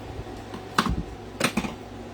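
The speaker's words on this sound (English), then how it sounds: "I'm going to come in with my paper snips and I'm going to cut really close" Paper snips cutting through paper for a craft project, two crisp close snipping bursts about two-thirds of a second apart, each a quick cluster of clicks, over a quiet background with no speech.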